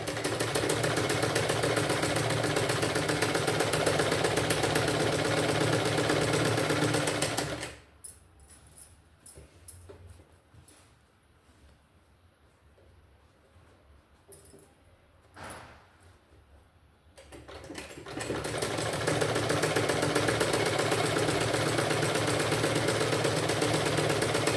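A sewing machine stitches falls onto a saree, running in a loud, steady mechanical whir for several seconds, stopping into near quiet with a few soft clicks, then starting up again at full speed.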